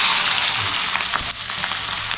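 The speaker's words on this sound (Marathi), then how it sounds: "असा सरसरीत आवाज यायलाच पाहिजे." Onion and green chili with cumin seeds sizzling steadily in hot oil, a loud continuous crackle and hiss close up with no voices.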